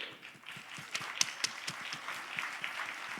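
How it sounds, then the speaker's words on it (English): An audience at a CEO Think Tank event on innovation and AI gives a round of applause, a fairly faint, steady patter of many clapping hands lasting a few seconds. "Big round of applause to Dingjo."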